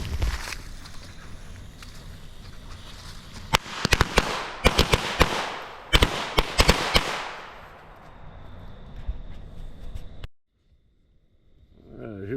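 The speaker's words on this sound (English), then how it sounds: "here we go with the Maddox firecracker" A Maddox firecracker goes off at dusk in a rapid, loud string of sharp cracks and pops that ends abruptly, with faint crackle trailing before quiet.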